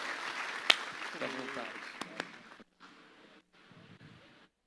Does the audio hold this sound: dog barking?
no